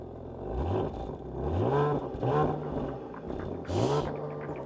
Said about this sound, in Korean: 자, 일반 그냥 스포츠 모드가 아닌 그냥 일반 배기 한번 들려드릴게요.